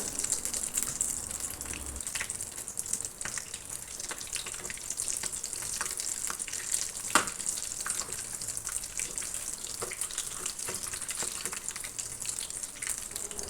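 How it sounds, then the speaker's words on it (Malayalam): Masala bondas deep-frying in hot oil: a continuous, even bubbling and crackling sizzle, fairly quiet and close, with occasional small pops and no speech. "ഇത് നമുക്ക് ഓരോന്നും തിരിച്ചും മറിച്ചിട്ടിട്ട് നന്നായിട്ട് തന്നെ ഒന്ന് ഫ്രൈ ആക്കി എടുക്കാം"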